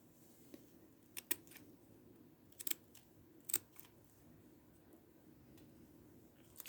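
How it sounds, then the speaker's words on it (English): Small cuticle scissors snipping through card stock for a miniature dollhouse flour sifter, heard as a few sharp, close snips in irregular pairs and singles over a quiet background. "You might want to use like cuticle scissors."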